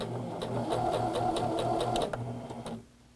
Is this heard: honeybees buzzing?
no